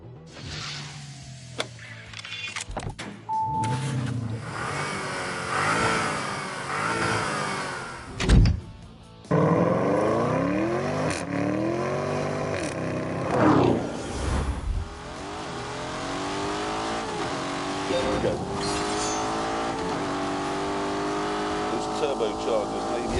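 A Lamborghini Urus with a turbocharged engine accelerates uphill, its rising, strained engine note climbing through gears with a brief lull, while someone talks over the sound from inside the cabin.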